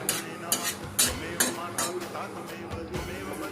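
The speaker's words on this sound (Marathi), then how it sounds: "तुपामध्ये चांगले ड्रायफ्रूट्स तळून घेतले आहेत" Dry fruits fry in ghee in a pan for mango sheera, giving a steady close sizzle. A utensil stirs with repeated clinks and scrapes against the pan about twice a second.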